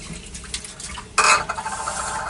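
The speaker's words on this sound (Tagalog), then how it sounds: "huhugas na tayo, guys." Dishes being washed in a kitchen sink: clattering plates and cutlery knock together, with one sharp, loud clank partway through, followed by continued scraping and splashing, close by and with no talking.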